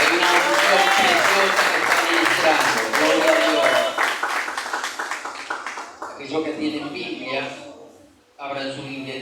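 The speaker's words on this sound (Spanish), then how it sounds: "En el nombre poderoso de Jesús, denle un fuerte aplauso al Señor." A church congregation claps loudly and continuously, the applause sustained and full before thinning out and dipping briefly near the end, with voices mixed in.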